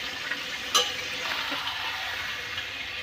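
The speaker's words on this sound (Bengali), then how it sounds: "এই পর্যায়ে মাংসগুলো আমি উল্টিয়ে নিচ্ছি।" Country rooster (chicken) meat being flipped and stirred with spices in a pan gives a steady close sizzle, with one brief metallic clink early on and soft scraping throughout.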